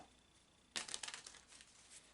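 Oracle cards shuffled on a table, a sudden burst of papery riffling and soft slaps close by that fades into lighter crinkling, all quiet with no talk.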